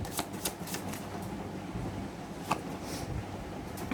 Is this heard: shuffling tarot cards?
yes